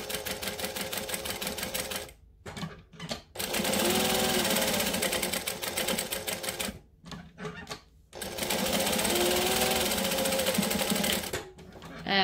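A sewing machine basting and backstitching a passport pocket, stitching in long steady whirring runs broken by short stops and stuttering reverse bursts, loud and close, with a voice talking between the runs.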